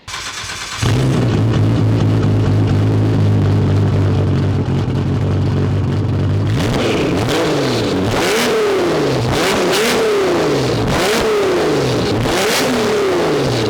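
A tuned Nissan Skyline GT-R R32 engine with titanium exhaust idles with a low rumble, then revs repeatedly in sharp rising and falling bursts, loud and close, with a raspy exhaust note.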